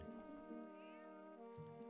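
A cat in the GameCube game The Legend of Zelda: Twilight Princess lets out a single drawn-out, tonal meow, soft and steady over a quiet game backdrop with no talking.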